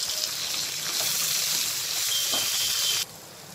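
Unpeeled garlic cloves and fresh curry leaves fry in a pan of oil for a village-style tomato mint chutney, giving a steady, close sizzling hiss throughout with no voices.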